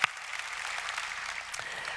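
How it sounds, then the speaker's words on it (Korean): A church congregation claps together in a dense, steady burst of applause that fills the room, loud and continuous with no voices over it. "오늘도 이 자리에 임재하신 우리 성령님께 감사와 영광의 박수 드리겠습니다."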